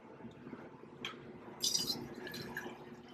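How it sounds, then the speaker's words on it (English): Coffee poured cup by cup into a pump pot, a soft, faint liquid pour with light drips and a small clink, heard close up in a quiet kitchen. "So I pour it cup by cup into the pump pot."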